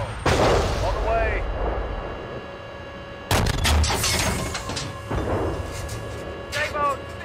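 Tank main gun fire in the Steel Beasts Pro PE combat simulator, with heavy booming blasts near 0.3 s, 3.3 s and 5.1 s, each followed by rumbling decay, mixed under radio-style crew voices.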